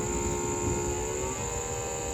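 A steady electric whine with a high buzzing tone, continuous and fairly close, a training Formula One car's fuel pump priming, with no voices.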